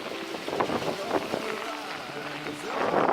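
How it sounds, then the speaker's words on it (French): Strong, gusty mountain wind buffeting outdoors in Alaska, with a rushing noise that swells toward the end, while a person talks over it. "Il y a un vent de folie."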